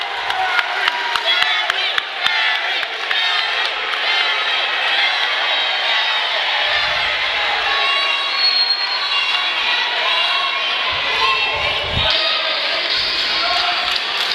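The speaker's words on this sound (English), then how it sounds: "This crowd just popped." A wrestling crowd at a PPW Excalibur title match roars after Jerry Lawler's drop kick, a loud, sustained cheer with whoops and shouts filling the arena, a few sharp thuds and bangs breaking through early on.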